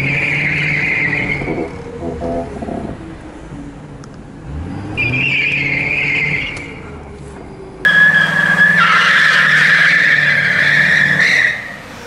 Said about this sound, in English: I'm curious if this thing is gonna do a good donut